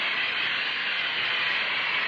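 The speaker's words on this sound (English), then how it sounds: "let's keep a blast of hot steam on it" A steady, forceful hiss of hot steam blasting onto Mylar polyester plastic film, a continuous broadband rush at constant loudness throughout with no talk.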